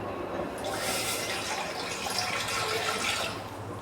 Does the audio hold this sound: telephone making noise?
no